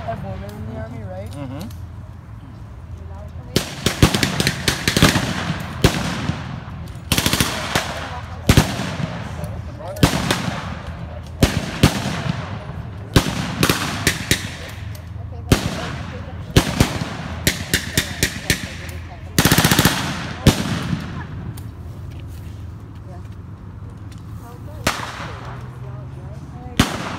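Blank-firing rifles and machine guns crack in rapid irregular bursts at a WWII reenactment battle staged as Yugoslavian partisans rescuing a pilot, loud and close, with scattered voices talking underneath.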